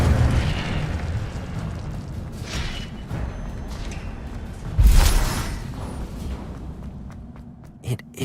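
Fire spells blast in Hogwarts Legacy amid a dense, roaring rumble of game ambience, with a loud whooshing burst of flame near the middle and a sharper pop near the end.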